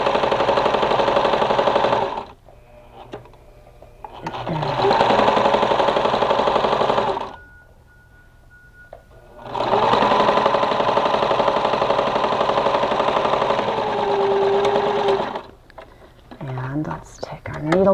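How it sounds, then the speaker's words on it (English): Sewing machine stitching through layers of pre-printed quilt batting with fusible backing, running in two long bursts of fast even whirring separated by pauses, close and loud, with a person speaking softly in the gaps. "let's continue to sew through all layers."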